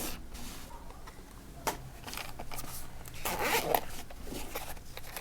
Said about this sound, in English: as we unzip this hard shell case